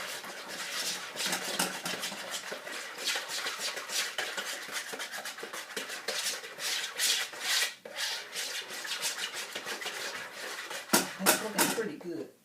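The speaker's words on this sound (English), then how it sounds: "I'm going to whisk that in" A whisk stirs pumpkin pie filling in a bowl, giving a steady run of quick scraping, rubbing strokes that continue for the whole stretch, up close with a few louder clinks near the end.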